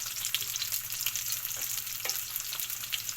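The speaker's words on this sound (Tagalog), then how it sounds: "Ano lang yung niluto ko guys, yung longganisa tsaka yung hotdog." Longganisa and hotdog frying in a pan, a steady close crackling sizzle with small pops and light stirring, no voices.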